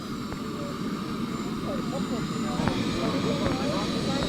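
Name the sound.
jet engine of a radio control airplane running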